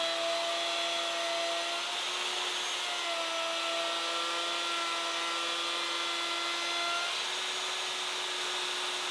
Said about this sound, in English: I begin by cutting the dado for the bottom.